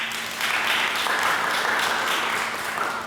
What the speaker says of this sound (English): If you can give him a round of applause.